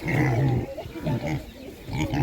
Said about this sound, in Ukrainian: Гарні, гарні поросятка такі.